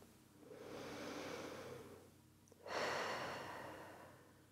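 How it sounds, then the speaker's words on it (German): Slow, deep breathing during a gentle beginners' and seniors' exercise session: a long inhale, a pause, then a fuller exhale, soft and close with no talk. "Tief ein- und ausatmen."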